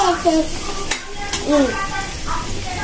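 Atukula upma (flattened rice) being stirred in a frying pan, a short scraping, sizzling stir close by, with a voice speaking briefly over it.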